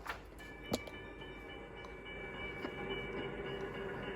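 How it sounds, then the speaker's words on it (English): A 1950s freight train rumbles steadily close by as it arrives at a station, with a sharp metallic clank near the start and a thin wheel squeal as it rolls in. "Soon the freight train arrives at its first stop."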